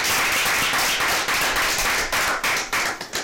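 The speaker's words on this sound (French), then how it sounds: "on peut applaudir la maison de production" Applause for a production house at a TV show, dense and close, with many hands clapping at once in a steady wash that thins into a few scattered claps at the end.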